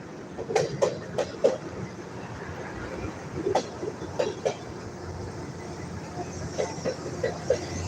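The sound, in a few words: long freight train with several locomotives passing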